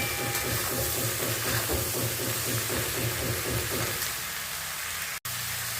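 Prawns frying in a pan give a steady, close sizzle and hiss with a faint rhythmic crackle running beneath it, continuing unbroken until a brief cut near the end.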